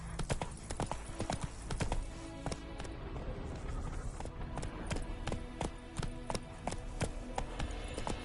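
Horse hooves clip-clopping in The Witcher 3: Wild Hunt, a steady, close, rhythmic run of sharp hoof strikes that carries on throughout, with brief talk in the background.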